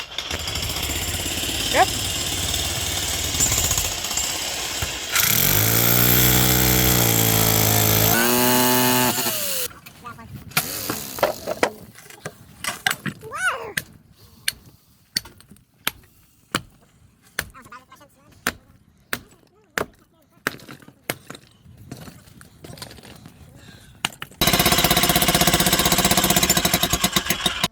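A small jackhammer breaks up material inside a mobile home under renovation, firing rapid, loud repeated bursts of hammering separated by short pauses, with other loud work noise around it and a brief spoken word.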